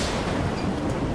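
A loud, broad rumble of thunder rolls through a sudden storm in the video game STALKER 2, filling the short moment without any voices.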